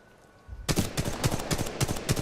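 After a quiet moment, rapid automatic gunfire in Titanfall 2 erupts in a steady rhythm of sharp, loud, close shots that keep going to the end.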